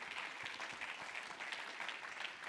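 An audience at an annual business meeting claps for donors, a dense, steady patter of applause from many hands that lasts the whole short stretch with no voices over it.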